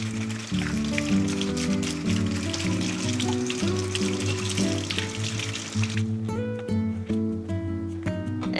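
Cucumbers are rinsed under a running kitchen tap, a steady close splash of water that stops abruptly near the end, followed by a few light clinks and handling sounds.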